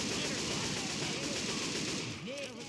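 A teammate fires rapid automatic gunfire in the zombie shooter Left 4 Dead 2. The bursts are dense and sustained, with game noise and voices beneath them, and they fade out slightly near the end.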